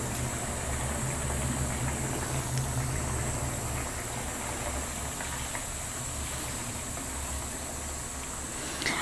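Rohu fish curry with potato and bori simmering in a pot, giving a steady, even bubbling hiss with a low rumble beneath, continuous and close with no talking.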